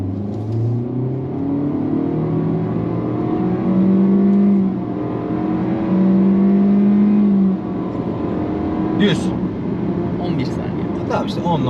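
A new Honda Civic with LPG fuel accelerates hard in sport mode with start-stop off, its engine note rising in a sustained drone through gear changes for about eight seconds before easing, heard from inside the car.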